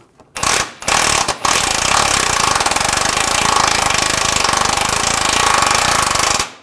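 Rapid hammering of an impact wrench snugging the nut on a front lower ball joint of a 2009-2010 BMW 535i xDrive, a loud continuous burst running several seconds after a couple of short blips.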